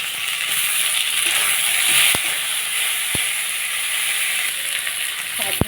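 Chopped tomatoes hit a pan of hot oil and fried onions, bringing a steady, close sizzle and hiss punctuated by a few sharp knocks of a spoon against the pan.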